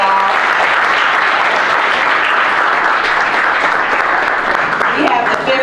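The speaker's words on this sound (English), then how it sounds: "So let's give her a round of applause." A room full of people at a community panel breaks into sustained, loud applause, with dense clapping throughout and voices faintly mixed in.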